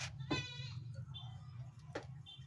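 A goat bleats twice, brief and a little distant, over a steady low hum in a rural setting.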